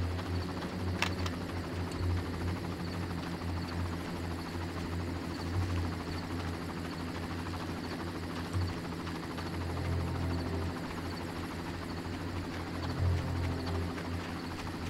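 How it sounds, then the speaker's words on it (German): Steady rotor thumping of a helicopter in Far Cry drones on throughout, a continuous low pulsing hum at moderate volume with no voices. "So, wo ist der Heli?"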